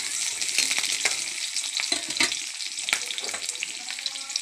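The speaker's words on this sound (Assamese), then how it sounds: "এতিয়া মই পিঁয়াজ নহৰু গোটেইখিনি একেলগে দি দিলোঁ তাৰপাছত এনেকৈ লৰাই দিছোঁ" Onion and garlic fry in hot oil with a continuous bright sizzle and crackle, while repeated stirring strokes scrape the pan at an uneven rhythm, close and moderately loud.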